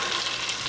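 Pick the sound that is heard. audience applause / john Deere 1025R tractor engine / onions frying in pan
onions frying in pan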